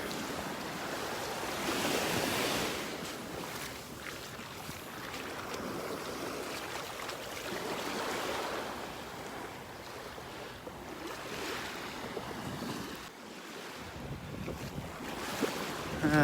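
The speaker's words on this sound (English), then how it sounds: "sure you can hear that breeze blowing, the wind hitting the camera" A steady breeze buffets the microphone on a North Naples, Florida beach, with a continuous roar of wind noise and surf rolling underneath, swelling and easing slightly throughout.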